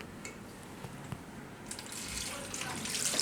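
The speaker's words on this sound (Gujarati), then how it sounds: "તો આમાં આપણે પાણી નાખીશું થોડુંક" Water poured into a pressure cooker holding raw bananas, a soft, faint splashing pour that swells toward the end, with no talk.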